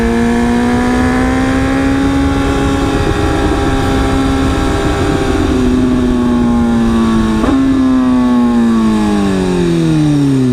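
A 2016 BMW S1000RR Premium motorcycle rides along, its engine note droning loud and steady with a strong tonal whine. The pitch dips and rises through a gear change, with wind rush underneath.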